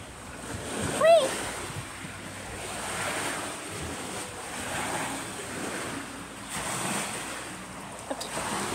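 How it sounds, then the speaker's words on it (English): Ocean surf near a houseboat rolls in as a steady wash of breaking waves mixed with wind buffeting the microphone, with a brief squeak early on and soft swells rising and falling throughout. "The waves are so loud, guys."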